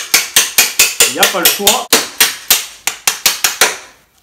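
A hammer taps a motorcycle engine into its frame, giving steady sharp metallic strikes about every quarter second, loud and close. Someone speaks French briefly partway through.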